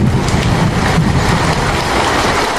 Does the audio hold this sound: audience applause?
no